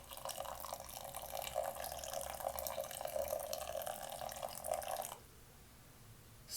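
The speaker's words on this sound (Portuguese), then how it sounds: "Vou controlando na balança a quantidade de água que eu vou despejar." Water is poured from a kettle onto ground coffee in a French press, about 100 ml measured on a scale. A steady splashing trickle lasts around five seconds, then stops abruptly into near silence.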